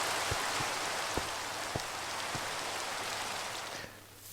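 Steady, dense video-game rain hisses throughout with occasional sharp ticks, then thins out near the end. No speech.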